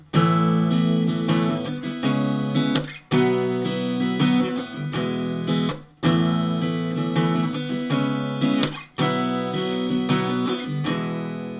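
Steady acoustic guitar strumming of the chorus pattern from a song, full and loud with regular rhythmic strokes and brief chord-change pauses, played alone without talk.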